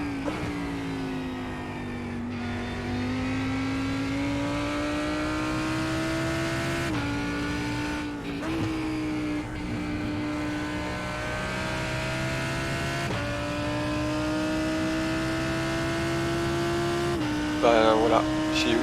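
A Lamborghini GT3 race car engine in a racing video game at the Barcelona circuit, a loud steady drone that drops abruptly at gear shifts and rises again, with a short burst of extra noise near the end.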